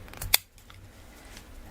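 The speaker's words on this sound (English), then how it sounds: "I know these are quite large scissors" A single sharp snip from a pair of large scissors cutting through fabric for a wearable-art remake, one crisp close click followed by quiet handling noise.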